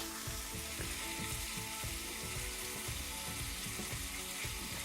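Smoked bacon fries in a pan over a wood fire, a soft, constant sizzle with quick crackles and rhythmic ticking spitting throughout, quiet and close with no talking.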